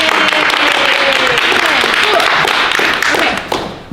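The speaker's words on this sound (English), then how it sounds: "Give yourselves a round of applause." Loud, dense applause from a gathered audience at a first responders' storytelling event, sustained and close, tapering off near the end.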